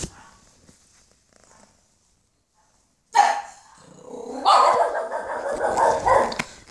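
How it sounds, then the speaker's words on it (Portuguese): After near silence, a dog barks sharply, then keeps up a rougher, growling bark for a few seconds, close and fairly loud. "vocês conseguiram ouvir o latido da Pepeca"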